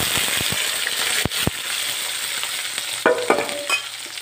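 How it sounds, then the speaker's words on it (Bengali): A spoon stirs olives through a tangy red amaranth chutney in a frying pan tempered with mustard seeds and chopped chilli. Oil crackles over sharp metallic scrapes and taps, and a brief clatter comes near the end, with no talking. "কিছুটা জলপাই দিয়ে একটু নাড়াচাড়া দিলাম।"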